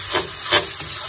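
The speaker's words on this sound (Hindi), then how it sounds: "ये लग गया तड़का" A brief crackling sizzle of spices tempering in a pan, with a couple of hissy bursts, close and moderately loud, lasting about a second.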